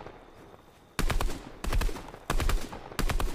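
Gunfire in the Fortnite video game: four rapid bursts of automatic shots, each about half a second, loud and close after a quiet moment, with no speech.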